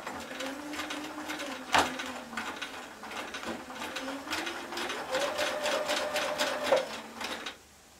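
A sewing machine stitches around the collar of a winter coat, its rapid mechanical whirring and clatter running in steady bursts that speed up and slow down before stopping.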